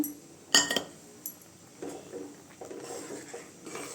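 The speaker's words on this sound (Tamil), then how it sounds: "ஒரு முட்டை உடச்சி வச்சுருக்கேங்க அதை ஊற்றி நல்லா கிளறி விட்டுக்கலாங்க" An egg is poured into a simmering pot of Tamil egg curry (muttai kulambu) and stirred, giving a sharp clink of utensil on pot followed by quieter intermittent scraping and stirring sounds, with no talking.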